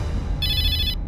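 A telephone rings with a single bright electronic trill lasting about half a second, clear and fairly loud above a low room hum, with no speech.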